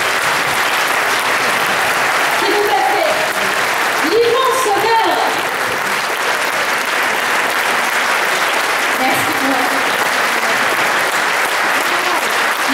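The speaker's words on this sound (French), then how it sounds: "je voudrais qu'on applaudisse vraiment très très chaleureusement la petite Inès" A concert audience at the Coupole in Saint-Loubès applauds warmly and continuously, a loud, dense, sustained roar of clapping with brief voices and cheers surfacing in the middle.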